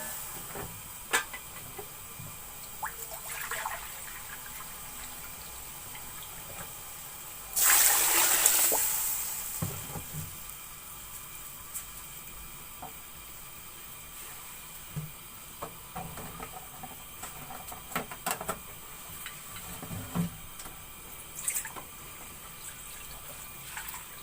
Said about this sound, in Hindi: अब इसमें पानी शामिल कर लेंगे।